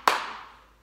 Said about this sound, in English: Feet together, two claps.